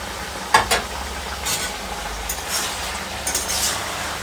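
Big fish heads cooking in a curry: a steady sizzle and frying hiss with spatula stirring, soft scraping and a few clinks, close and moderately loud.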